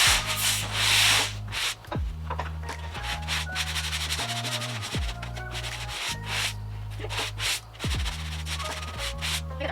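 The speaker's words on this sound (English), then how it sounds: "Now we're just going to sand off the work that we did yesterday." Sanding sponge rubbing over dried drywall compound in a basement pantry renovation, a steady close scrubbing rasp in repeated back-and-forth strokes with brief pauses, heard alone.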